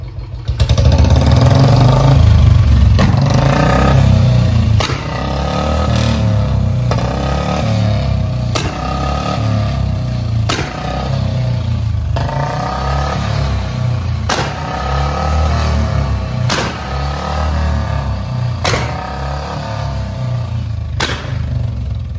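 A loud Royal Enfield Bullet motorcycle engine rumbles close by while the kill switch is used to make it misfire, giving sharp pops and cracks roughly every two seconds over the running engine.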